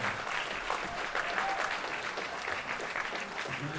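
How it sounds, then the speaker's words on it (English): Sustained audience applause for a French junior 93 kg bronze medalist at a world classic powerlifting championship, a dense even wash of clapping from a large crowd with no talk over it. "Give him a round of applause."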